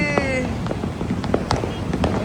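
Several firecrackers pop and crack in an uneven series at night, some louder than others, while people talk nearby.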